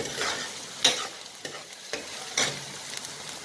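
Dhal ingredients sizzle steadily while frying in a hot pan, with occasional clattering stirs against the pan; no one speaks.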